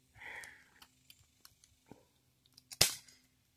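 A single sharp, loud gunshot from a sniper rifle close by at an outdoor ranch during bluegill fishing, coming after a few faint clicks and a brief murmur.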